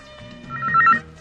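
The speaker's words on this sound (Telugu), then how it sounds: "రింగ్ అవుతోంది." A telephone rings in a domestic scene from a Telugu comedy film, one short electronic ring burst that swells briefly and fades, with no talk over it.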